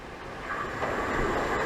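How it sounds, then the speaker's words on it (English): An electric multiple-unit train runs through Grove Park station without stopping, a broad steady rushing roar of wheels on rail that swells and holds loud close by throughout, with no talking. "The train now approaching platform 2 does not stop here."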